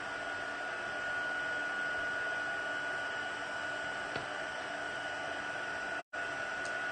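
Electric heat tool blowing hot air for crafting, a steady close whooshing hiss with a constant whine, cut off briefly near the end then resuming.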